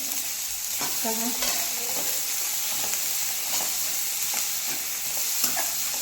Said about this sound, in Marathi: हाय फ्लेमवर मी भाज्या परतून घेत आहे